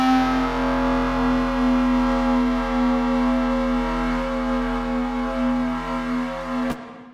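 A sustained, distorted synth bass drone made in Serum, with a wide reverb wash, holding steady before cutting off abruptly near the end.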